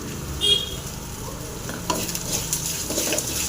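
Chopped snake gourd fries in a pan, a loud close sizzle broken by quick scraping stirs and a brief clink of utensil against metal.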